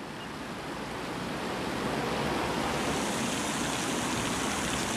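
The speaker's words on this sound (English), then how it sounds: "The wind has eased off a bit, doesn't it?" Strong outdoor wind roars as a continuous broadband rush, steady and loud for the whole stretch and swelling slightly partway through, with no voices.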